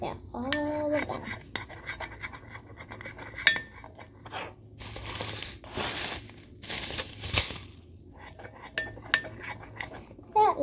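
Fluffy slime in blue, pink and purple being mixed in a bowl, with scraping, squishing and clinking of a utensil against the bowl, close by, while a voice talks over parts of it.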